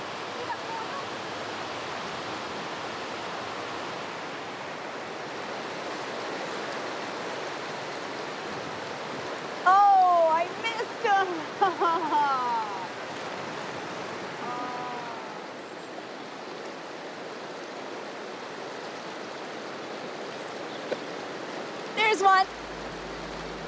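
Steady broadband rush of stream water flowing continuously throughout, with brief chirpy voices or birdlike calls breaking through midway and near the end.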